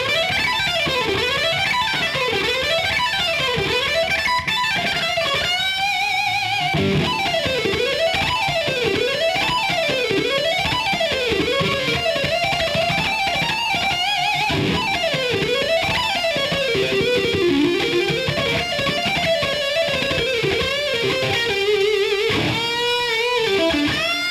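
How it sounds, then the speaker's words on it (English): Electric guitar playing a fast Mixolydian lick in G with hammer-ons and pull-offs, rapid notes running up and down in repeating waves, continuous and loud with slight distortion, no talking. "I'm just going to play those notes up and down as fast as I possibly can using hammer-ons and pull-offs."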